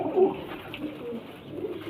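Soft, low cooing from a pigeon kept for sale, a few murmuring coos close by over faint background noise.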